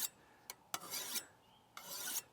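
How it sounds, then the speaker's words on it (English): A metal file rasps along a garden hoe blade in three or four distinct strokes, each a harsh scraping sweep, the longer strokes separated by brief pauses, heard close and alone. "I've been sharpening on these for a while"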